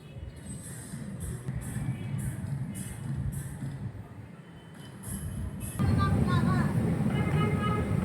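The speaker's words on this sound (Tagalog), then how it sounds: "Subukan natin sumakay dun sa bagong LRT mga kabayan" A new light rail train at Baclaran station in Manila: steady rumbling rail noise with rhythmic clatter, swelling louder near the end with squealing wheel tones, and voices faintly mixed in.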